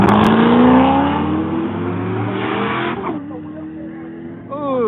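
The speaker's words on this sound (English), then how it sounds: "there's a big turbo hanging out of that truck over in the far lane" A turbocharged truck races down a drag strip, a loud engine roar rising in pitch through a gear, then dropping and fading after about three seconds before a shorter surge returns; a commentator's voice is likely mixed in.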